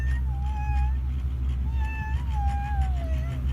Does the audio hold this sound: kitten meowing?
yes